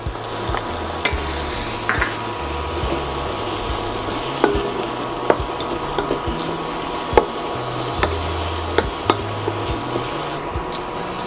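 Ginger and spices fry in a pan for Filipino-style chicken curry, a steady sizzle with repeated sharp utensil taps and scraping clicks, close and fairly loud.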